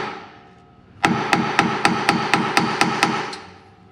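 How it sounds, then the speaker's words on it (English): After a brief quiet lead-in, a hammer taps the flange of an F150 driveshaft where it meets the U-joint, with about nine sharp metallic strikes at an even, quick rhythm, each ringing briefly, close and loud. "You want to tap, you know, where the flange connects to the U-joint."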